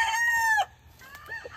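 A rooster on a farm gives a loud, close crow that ends abruptly, followed by a few softer clucks and rustling.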